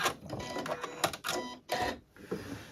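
A sewing machine sews a straight stitch along a precision-cut fabric table runner in short, close mechanical bursts with brief pauses between them, and no voices.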